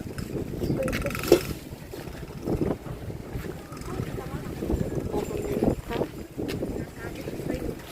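A service motorcycle's engine runs with a steady low rumble, mixed with gusty wind buffeting the microphone and voices talking nearby.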